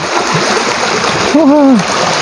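River water rushes and splashes steadily during a crossing at a scout survival camp, a continuous close wash with a brief voice sounding over it.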